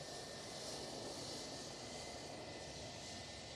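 A Lauda airliner passes at Manchester Airport, its jet engines giving a steady, even rumble with a thin whine on top, fairly faint and continuous throughout.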